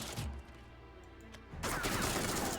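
Gunfire volley in the Shadowverse video game, a short burst of shots at the start, a quieter pause, then a dense sustained crackle of firing.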